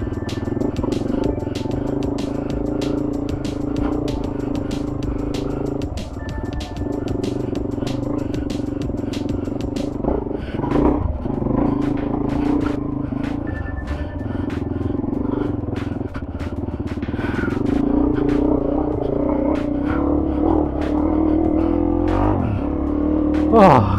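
A Suzuki DR-Z dirt bike engine runs steadily along 4WD bush tracks at Pine Creek, its loud, close drone rising and falling through the whole stretch with clattering bumps and a few brief voice sounds.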